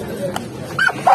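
Dogs on sale at a Sunday market in Casablanca, with short yips and whimpers rising near the end of the clip amid market chatter and voices.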